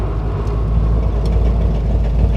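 Custom 1936 Ford Phaeton engine fitted with exhaust cutouts, a loud, deep, steady rumble close by with no pauses or speech.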